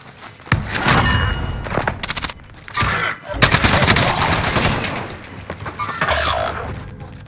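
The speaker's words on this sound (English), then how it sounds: "I'm taking fire! Under hostile fire." Bursts of automatic gunfire and heavy shots crack loudly in a Call of Duty Rebirth Island match, coming in dense volleys with brief gaps between them, plus a few thuds and booms.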